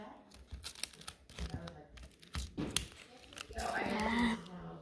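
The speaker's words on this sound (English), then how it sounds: "I'm gonna rip a piece that's just the size of the cardboard" Tape torn off by hand to match a piece of cardboard while building a homemade vending machine, with crinkling and a longer rip near the end, close and under a person talking.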